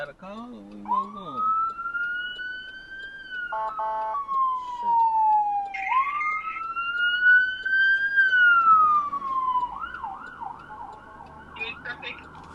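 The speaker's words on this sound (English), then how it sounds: "Oh, ambulance" An ambulance siren wails through traffic, heard from inside a vehicle, sweeping up and down in long tones, then switching to a rapid yelp pattern, with brief horn blasts and people talking inside the car.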